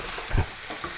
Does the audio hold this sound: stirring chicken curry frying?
yes